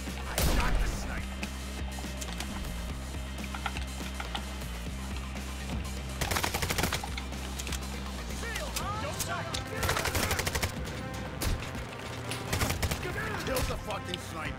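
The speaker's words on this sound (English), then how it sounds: "I shot the sniper." Gunfire during a heist firefight in Payday 3, against a sniper and police, with repeated loud sharp shots and bursts scattered through a busy mix of combat noise, game effects and talking voices.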